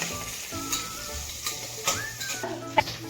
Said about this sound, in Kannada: ಸೊ ಇವಾಗ ಆನಿಯನ್ ಹಾಕಿದ್ದೀನಲ್ವಾ, ಗೋಲ್ಡನ್ ಬ್ರೌನ್ ಬರೋವರೆಗೂ ಸ್ವಲ್ಪ ಫ್ರೈ ಮಾಡ್ಕೊತಿದ್ದೀನಿ